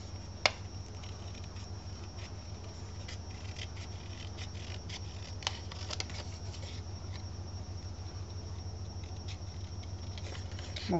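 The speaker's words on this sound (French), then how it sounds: "vous entendez encore le sèche-linge" A tumble dryer runs somewhere nearby, a steady low droning hum that lasts the whole time, with sparse small ticks and rustles of paper crafting over it and no speech.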